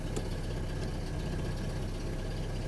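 A Saab car engine, with the AC off, idles steadily with a low, even rumble, close by and continuous, with no talking.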